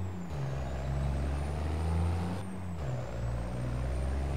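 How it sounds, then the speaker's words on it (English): In Farming Simulator 22, a truck's engine brake gives a loud, steady low diesel rumble with a deep droning tone that holds for several seconds and shifts slightly in pitch, heard alone and up close. "I don't like the jake brake on this"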